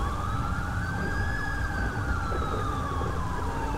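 Emergency vehicle sirens wail in the GTA 5 video game, a steady rising and falling tone over a constant rumble of rain and road noise, loud and continuous throughout.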